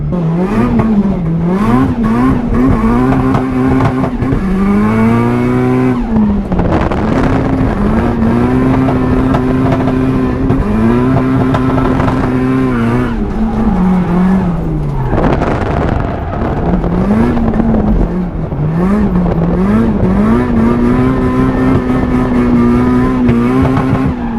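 A car engine pulls steadily while driving, loud and continuous throughout, its revs repeatedly climbing and easing back as the car accelerates and shifts.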